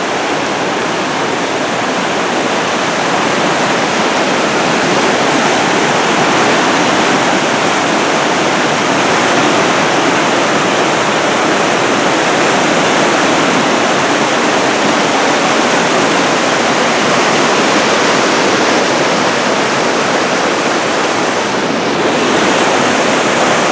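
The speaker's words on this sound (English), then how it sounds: "here's Crystal Creek, and it is flowing this morning" Crystal Creek at Mount Rainier rushes steadily on a morning hike, a loud, close, continuous roar of flowing mountain water with no voices.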